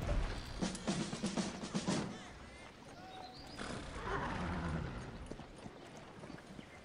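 A horse whinnies in the strategy game Cossacks 3, a faint neigh set against busy battle ambience and background game sounds, with no speech over it.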